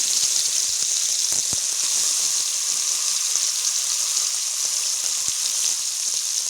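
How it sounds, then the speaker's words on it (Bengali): Bhola fish frying in hot oil in a wok, a steady loud hiss and crackle with scattered pops, close and continuous with no talk. "এবারে কড়াই মাছটা দিয়ে দিলাম।"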